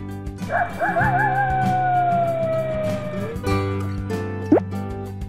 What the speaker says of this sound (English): Coyote.